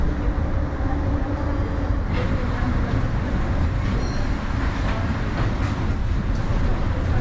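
Steady rumble of a Mexico City metro train in motion, continuous broadband rolling noise with faint rail squeals, heard from inside the carriage.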